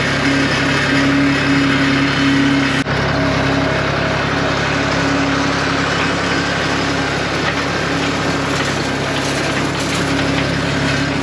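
A tractor engine drones loudly and steadily throughout while making hay in western South Dakota, a continuous close mechanical roar with a constant pitch.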